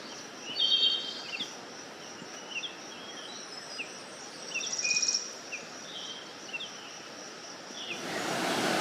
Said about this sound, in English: I'm rewarded this morning with all kinds of songbirds